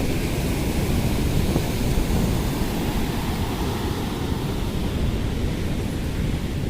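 Steady ocean surf washes onto an empty beach at Candolim, Goa, a continuous broadband roar of breaking waves with some wind, no voices.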